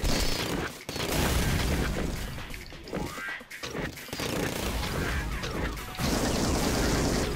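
A T4 gun blazes away in a video game, long bursts of rapid, loud gunfire that fill the whole clip, broken by a few brief pauses, with crashing impacts mixed in and no talking.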